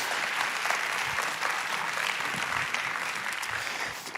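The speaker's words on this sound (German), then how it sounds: "Komm, wir geben unserem Theaterteam nochmal einen großen Applaus." A church audience claps for the theatre team, a dense, even wash of applause that holds steady throughout.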